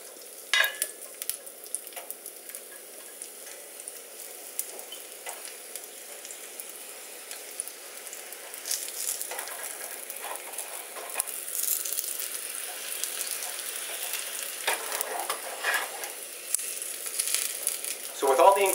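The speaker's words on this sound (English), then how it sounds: "into this pepper-infused oil, we'll add the tortillas and toast them up" Tortillas toasting in pepper-infused oil for sopa azteca, a soft steady sizzle with scattered crackles and occasional scraping of a utensil, moderately faint and without talk.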